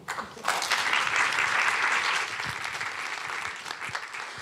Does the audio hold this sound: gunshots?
no